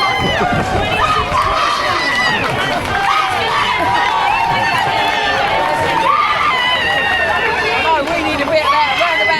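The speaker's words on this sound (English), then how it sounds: "his sister and her son were absolutely screaming and cheering and whatnot for him right at the start there" A crowd at a London Marathon start line, with a family screaming and cheering for a runner nearby, loud and sustained amid general crowd hubbub and shouting voices.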